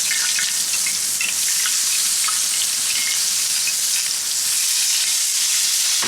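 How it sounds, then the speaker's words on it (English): Marinated beef hits a hot pan at an Adirondack campsite and sizzles loudly and steadily, a dense, continuous frying hiss that stays close and level throughout with no voices. "I'm going to throw these right in this hot pan."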